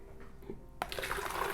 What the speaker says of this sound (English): Add your soap to the jug.